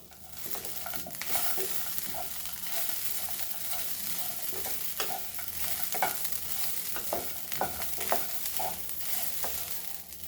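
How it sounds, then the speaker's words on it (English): Pumpkin seeds and onion roasting together in a pan over a low flame, giving a soft continuous sizzle with frequent light scraping and stirring clicks throughout; no voices. "Low flame, and we will roast this together, and we'll add our onion also."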